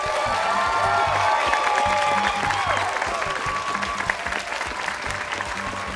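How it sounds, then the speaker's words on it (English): Steady, close applause with some cheering from a studio audience greeting the Sharon team at a high school quiz show, a continuous dense wash of clapping throughout. "Let's hear it for Sharon"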